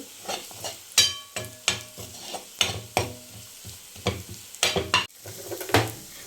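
Onions with chilli powder sautéing in a pan for a vegetable kurma, with a spoon stirring and scraping in repeated bursts over a soft sizzle, close by.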